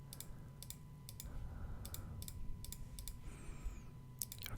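A computer mouse clicking while working in Photoshop: a series of quiet, sharp clicks spaced irregularly over a low, steady room hum, with no talking.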